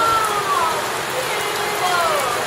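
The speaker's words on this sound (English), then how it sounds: "Oh, it's raining." Rain pours steadily at an outdoor sailing training camp in Thailand, a dense, loud hiss filling the whole moment with faint whistling tones drifting above it.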